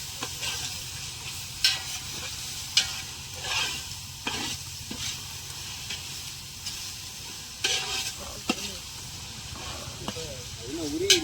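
Ingredients for biryani, including ginger-garlic paste, sautéed in a large pan over a fire, a continuous sizzle broken by repeated scraping and stirring strokes, with voices talking over it.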